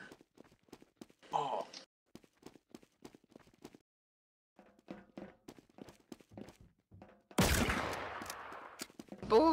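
Gunfire in Team Fortress 2 Murder Mod: scattered sharp clicks and footsteps, then a loud close burst of shots with a lingering noisy tail.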